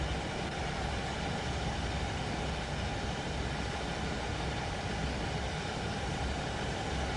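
A DB locomotive in Train Sim World 3 rumbles with a steady, even broadband roar of engine and rail noise, unbroken and fairly loud, with no talking.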